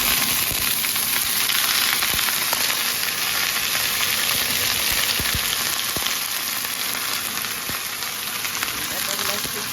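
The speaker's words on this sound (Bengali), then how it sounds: "এবার আমি ডাটাগুলো অ্যাড করে নিই।" Vegetable stalks with green chillies for a mustard-paste chorchori frying loudly in a pan, a dense, continuous close-up sizzle and hiss with occasional crackles and pops throughout.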